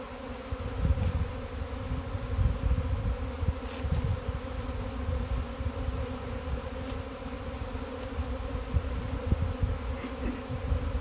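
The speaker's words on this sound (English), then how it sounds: "some of them's already took to the landing board there and started fanning" A honeybee swarm fanning at a hive landing board outdoors, a continuous close buzzing hum of many bees, fairly quiet and steady throughout.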